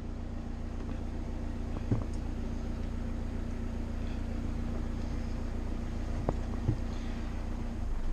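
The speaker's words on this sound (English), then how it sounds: "I'm not turning off the engine until it's secured completely" Boat engine running steadily while the vessel is being anchored, a constant low drone with faint wind and a couple of brief knocks.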